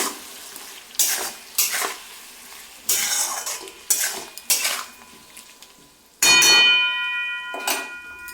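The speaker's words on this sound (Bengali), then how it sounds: "জিরে আর কাঁচা লঙ্কা। মশলাগুলো একটু কষিয়ে নেব।" Ground cumin and green chilli frying with spices in a pan, a metal spoon scraping and clanking in repeated stirring strokes over a steady close sizzle, with a louder burst of sizzling partway through.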